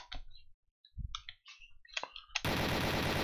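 M16 rifle fire in Doom 2 VR, a run of sharp clicks and short shots that ends in a loud, sustained automatic burst, heard up close with no talk.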